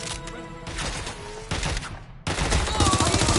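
Sustained gunfire in Watch Dogs Legion: dense, crackling volleys layered over game noise, continuous and loud, with a brief drop before the firing swells again.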